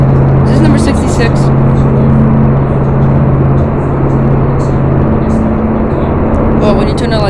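Race car engines in a Roblox NASCAR downhill video game race make a loud, continuous droning hum with sustained engine tones, heard alone with no talk.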